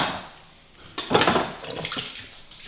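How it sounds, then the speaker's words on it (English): Coolant from a Corvette C7 radiator splashes and pours out in a sudden loud gush that then trickles and spatters for a second or so, close by with no talking. "And apparently pour coolant everywhere."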